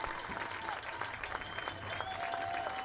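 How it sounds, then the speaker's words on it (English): A stadium crowd at Royals Stadium rises in a standing ovation during an on-field honoring, with sustained dense applause and crowd noise filling the space at steady loudness throughout. "Standing ovation from the crowd here at Royals Stadium."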